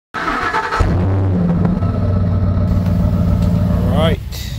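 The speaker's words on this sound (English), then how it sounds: "I started the car, warmed up a little bit" A car engine runs steadily after being started and warmed up, a low constant hum and throb close by, with a voice talking over it.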